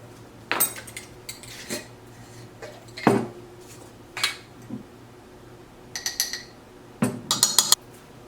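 A knife stirring dry ingredients including salt and cinnamon in a mixing bowl, making close, scattered clinks and scrapes of metal against the bowl in irregular bursts with quiet gaps between.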